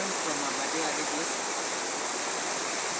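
Gura River in Africa, a fast-flowing river, roars with a steady, loud broadband rush of turbulent water that stays constant throughout with no speech.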